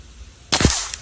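A single sharp shot from a Greyhound T-Rex air rifle cracks out after a quiet pause, followed by a brief metallic ring and a faint click.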